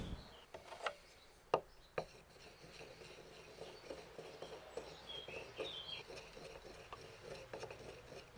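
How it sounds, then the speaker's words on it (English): One egg being beaten for medieval cabbage soup: soft, quick rubbing and scraping strokes in a bowl with a few sharper taps early on, quiet and close with no voices. "Then we beat one egg."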